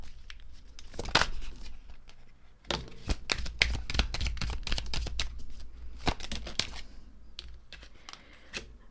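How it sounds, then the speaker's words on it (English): Tarot cards being shuffled and pulled, crisp riffling and flicking bursts in irregular clusters with brief pauses, close and fairly loud with no talking. "I've decided to pull one of these cards for her energy"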